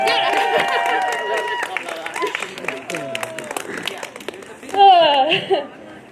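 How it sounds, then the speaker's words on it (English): A crowd applauds at a community march for homelessness in Barrie, the clapping running under a voice that keeps talking over it. "Let's give them all another round of applause."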